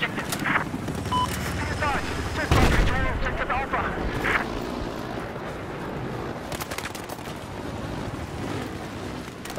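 Gunfire in Battlefield 4, rapid bursts and sharp cracks scattered over a busy battle din, one louder blast near the middle, with players talking over the action.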